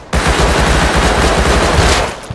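Rapid automatic gunfire rattles continuously for about two seconds during a firefight in the survival video game Rust, dense and loud with no pause between shots.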